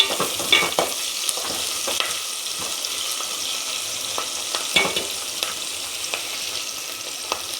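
Small onions go into hot oil in a pan for Telugu fish curry and are stirred, a steady bright sizzle with occasional scrapes and taps of the spoon, close and continuous.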